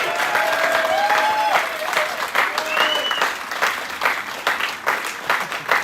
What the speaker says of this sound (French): Mais oui, on peut lui dire et l'applaudir à nouveau pour ça, Abhilash Tomy.